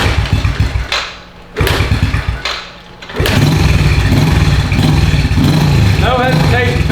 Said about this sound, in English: Let's give this thing some kicks.